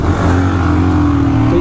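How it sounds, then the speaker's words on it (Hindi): Yamaha R15 V3 and Bajaj Pulsar 220F motorcycles at a drag race launch, a loud steady engine drone with strong low harmonics held nearby for under two seconds, no voices. "लॉन्च में थोड़ा सा प्रॉब्लम हुआ मेरे साथ, और रॉकी उस चीज़ का फ़ायदा उठा के आगे निकल गया है"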